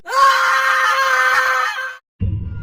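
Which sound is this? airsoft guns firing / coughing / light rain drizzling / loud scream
loud scream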